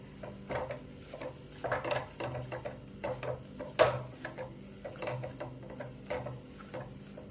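Homemade black masala stir-fried in a pan for a Kolhapuri-style vegetable dish, heard as repeated scraping stirs and light clinks of a spoon against the pan over a soft, steady sizzle.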